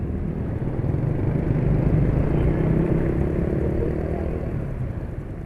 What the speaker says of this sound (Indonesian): tiba-tiba V-Power ini bikin suara mesin kasar